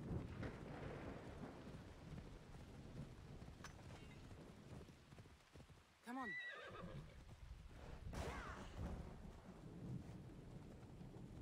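Rain hisses steadily with low rumbles of thunder in Assassin's Creed Odyssey, and a horse whinnies partway through over the stormy wash.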